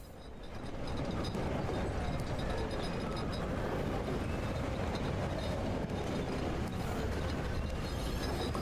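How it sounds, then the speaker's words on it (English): A long train rolls past in the video game DARQ, a steady, loud mechanical rumble with faint rail clatter that holds constant for the whole stretch, no voices over it. "How long is this freaking train?"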